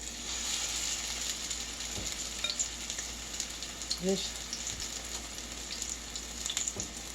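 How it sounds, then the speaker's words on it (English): Turkey Salisbury steak patties, shaped thick and oval, sizzle steadily in a skillet with a broad crackling hiss, a few small clinks and scrapes breaking through along the way. "make it into an oval shape, like a Salisbury steak, oval shape, and then put it in your skillet"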